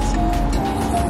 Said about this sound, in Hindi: अभी आपको गाड़ियों की आवाज़ आ रही होगी, यहाँ पे काफ़ी रश है